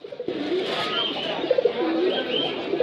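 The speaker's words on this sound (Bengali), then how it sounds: "একটু ডাকটা শোনাতে পারবেন? এটা মানে কবুতর।" A pigeon at a bustling pigeon market in Jinjira, Bangladesh, gives repeated soft, close coos over a dense background murmur of the crowd.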